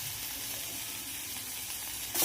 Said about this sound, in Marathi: टोमॅटो टाकून घेतल्यानंतर मी पूर्ण टोमॅटो पण ह्याच्यामध्ये पहिलं परतून घेते